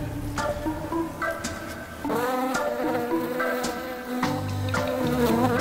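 Honey bees at a hive buzz steadily while being smoked with a beekeeping smoker, a simple metal can with a fire inside; a dense insect drone with tonal layers continues throughout, fairly close.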